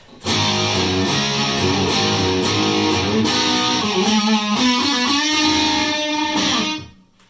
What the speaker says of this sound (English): then the DS-1 came out in '78, the distortion, and that sounds like.